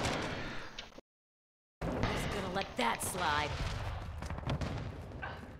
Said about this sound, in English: way too many explosions happening